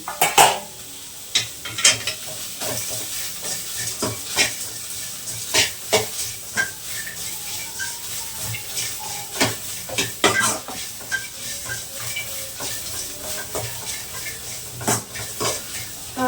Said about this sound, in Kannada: ಜೀರಿಗೆ ಮೆಣಸು ಹಾಕೊಳ್ತೀನಿ ಹಾಕ್ಬಿಟ್ಟು ಚೆನ್ನಾಗಿ ಫ್ರೈ ಮಾಡಿ